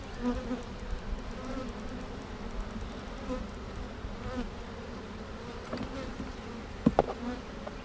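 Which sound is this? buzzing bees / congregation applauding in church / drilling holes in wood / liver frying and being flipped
buzzing bees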